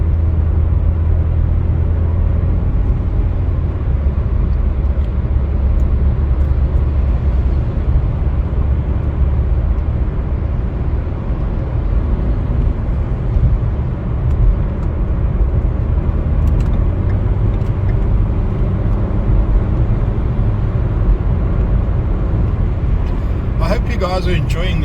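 A car drives through busy Dubai streets amid road construction, giving a steady, loud low rumble of engine and road noise that carries unbroken throughout.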